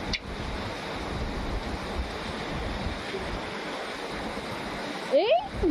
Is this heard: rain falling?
yes